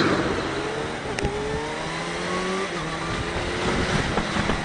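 2019 Kawasaki Ninja H2 motorcycle engine at speed while riding on the road, a loud steady roar with rising and falling engine tones mixed with heavy wind rush, no speech.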